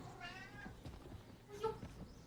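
A cat meows repeatedly in quick, uneven calls, close and fairly loud over a faint background of room noise.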